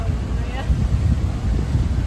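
Steady blustery wind rumbling low across an open mic on a sailboat off Kauai's Nā Pali Coast, with a faint watery churn of choppy water underneath and no talking.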